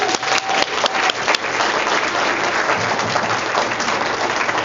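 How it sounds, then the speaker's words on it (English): Applause at a Bernie Sanders meeting in Riverside, a dense, loud wash of clapping from a crowd with a few sharper claps near the start, holding steady throughout. "I'm gonna find a better way to clap"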